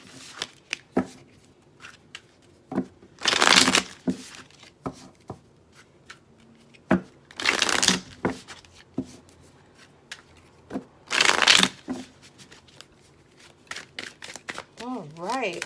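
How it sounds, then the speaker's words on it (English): Tarot cards are handled and shuffled with soft ticks and taps, broken by three bursts of brisk riffling, while a person speaks quietly throughout. "So let me just give these cards a good shuffle."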